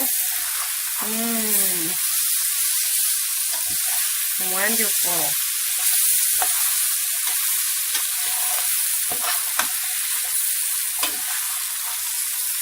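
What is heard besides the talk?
rice sizzling in frying pan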